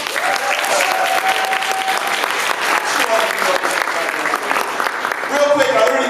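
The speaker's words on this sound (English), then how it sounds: "You give a round of applause." An audience at a New York leadership panel on health care and education breaks into loud, sustained applause, with a few whoops and shouts rising over the clapping throughout.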